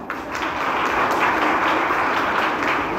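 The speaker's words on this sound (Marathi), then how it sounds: "स्वतःसाठी एकदा जोरदार टाळ्या" Students and mothers at a school Mother's Day event break into loud, sustained applause, a thick wash of clapping that swells in and holds throughout.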